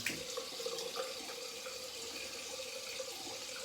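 Lukewarm water from a sink tap pours steadily over soapy hands, a close, even rushing splash with no voices.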